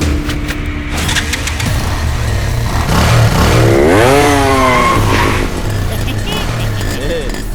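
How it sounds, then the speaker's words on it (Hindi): A motorcycle engine revving loudly in a dubbed Hindi film scene, the pitch sweeping up and down through several throttle blips, with voices and background sound mixed in. "ये कैसी बाइक दिया है इसको?"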